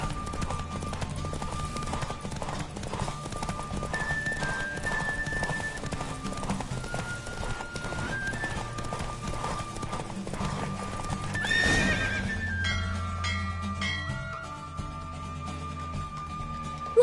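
Hooves clatter in a fast, continuous gallop for most of the stretch. Near the end the sound surges briefly, then gives way to lighter, more scattered sounds.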